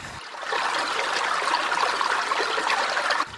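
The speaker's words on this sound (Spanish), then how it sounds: "se oye un sonido constante, es el de las regueras" Water running steadily through stone-carved channels along village streets in Valverde de la Vera, a constant close rushing trickle that fades in and holds evenly throughout, with no voices.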